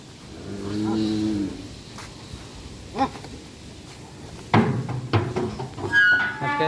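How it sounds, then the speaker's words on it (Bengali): A small red cow at a cattle farm gives one deep, drawn-out moo near the start, followed by scattered knocks and clatters of farm activity and faint background noise; no one speaks. "18 নম্বর ট্যাগের গরু একটি লাল, ছোট লাল গরু"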